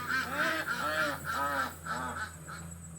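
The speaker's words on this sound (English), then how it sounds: "There's the ducks that are making noises." Ducks quacking repeatedly in a lively, nasal chorus, several calls in quick succession at close range over a faint steady hum.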